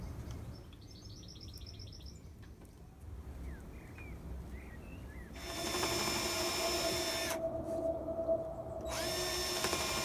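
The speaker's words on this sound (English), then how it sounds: "then I'm going to drill some pilot holes and put some bigger screws in those" A power drill bores pilot holes for screws while building a folding solar panel, running steadily and close for the last few seconds after a quieter stretch with birds chirping in the background.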